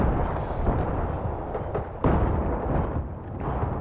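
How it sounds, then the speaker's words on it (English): A mortar explosion in the video game Battlefield 3 on a metro map: a loud, rumbling blast with a sharp second impact midway, and crackling debris after it, with no clear talk. "Someone's using a mortar?"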